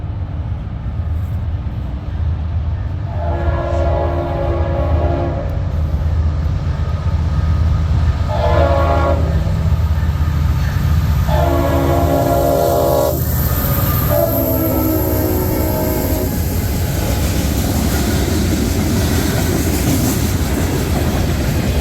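A Norfolk Southern freight train led by an SD60 locomotive rolls along the D&H line, its horn sounding in several loud, sustained blasts over a steady low rumble of passing cars, then fading into the rolling noise.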